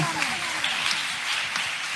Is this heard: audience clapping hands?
yes